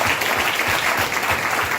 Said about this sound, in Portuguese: Então aplauda, porque ele é bom.